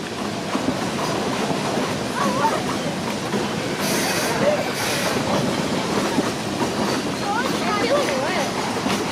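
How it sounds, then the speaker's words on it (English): An oil-burning steam locomotive climbs into the Sierras on a logging railroad, rolling wheels clattering in a steady rumble with occasional bursts of hiss, close by, with people's voices in the background. "the lovely aroma of a oil-burning steam locomotive working its way up into the Sierras"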